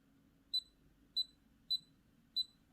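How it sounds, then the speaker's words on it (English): A HeartCare pulse oximeter gives four short, evenly spaced electronic beeps, clear and isolated against a quiet background hum. "And now we can hear a beep."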